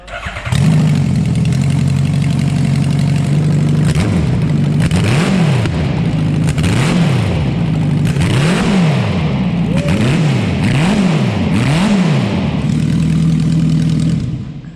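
A big custom motorcycle with a 1000cc CBR-based engine idles loudly up close, then revs in a series of sharp rising and falling blips before settling back to a steady idle.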